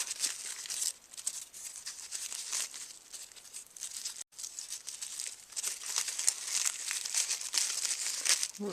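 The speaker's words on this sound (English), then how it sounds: "you'll just pull down those stalks one by one so they're facing the right direction" Dry corn husk stalks pulled down one by one while making a corn husk doll, close crinkling and crackling rustles in uneven bursts, with a brief pause midway.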